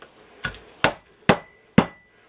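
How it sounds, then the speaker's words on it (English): A clean hammer strikes dried chicken of the woods mushroom five times in a steady, evenly spaced rhythm, each blow a sharp, close, dry thwack with a quick decay and no talk. "This is a clean hammer"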